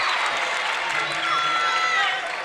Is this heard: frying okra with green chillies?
no